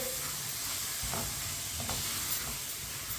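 Masoor dal cooks in a pan over medium heat, a quiet continuous sizzle with a few faint scrapes of a spoon stirring.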